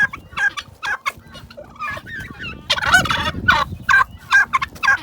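A flock of turkeys calls near at hand, a string of short gobbling bursts and clucks in uneven rhythm that grows busier toward the end.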